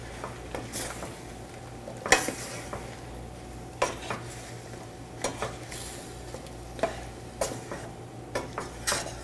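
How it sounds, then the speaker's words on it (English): A spoon stirs food in a pot on a kitchen stovetop, giving repeated scraping clinks and taps at an uneven pace over a faint steady hum, close and fairly quiet. "And again, another stir."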